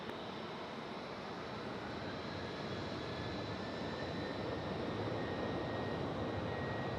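An airliner's jet engines rumble as a steady, faint broadband roar at Tampa International Airport near runway 19 right, holding evenly and swelling slightly toward the end with no voices.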